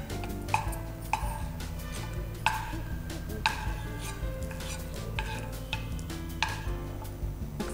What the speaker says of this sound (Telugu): లైట్గా కలర్ చేంజ్ అయ్యే వరకు నెయ్యిలో ఫ్రై వేయించుకోవాలి.